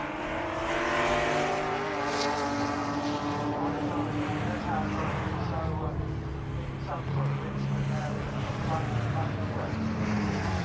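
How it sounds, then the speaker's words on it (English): Race cars in a BCV8 championship race approach and pass with a rising, sustained engine roar at moderate distance, while a commentator talks over the top throughout. "Now here come a lot of the cars as well"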